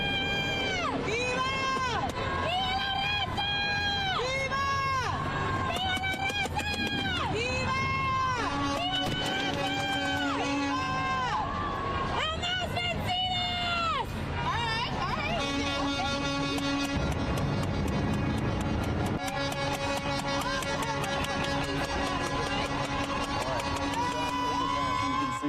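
At a street protest with police blocking traffic, warbling cries and shouted chants rise and fall from a crowd, broken by sharp bursts like fireworks, and then long sustained car horn blasts honk over the noise while people talk.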